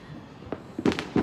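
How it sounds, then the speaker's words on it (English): Fireworks bursting outdoors on New Year's night, a few sharp booms heard from a short distance, one single pop followed by a quick cluster of loud cracks. "Hey, look, fireworks right behind us."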